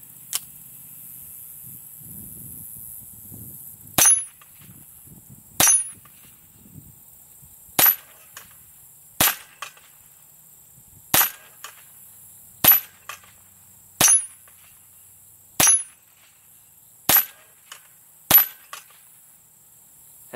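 Gunshots ring out at a bullseye shooting target: ten sharp, loud cracks spaced roughly one and a half to two seconds apart, each with a bright metallic ping, after a quiet stretch holding a few faint taps.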